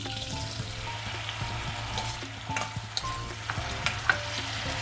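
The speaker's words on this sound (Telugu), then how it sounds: "ఇప్పుడు దీంట్లోకి ముందుగా పన్నీర్ ఫ్రై చేసుకుందాం." Paneer frying in melted butter in a pan for a dhaba-style Afghani paneer kurma, a steady close sizzle with occasional stirring scrapes and small pops throughout, no talking.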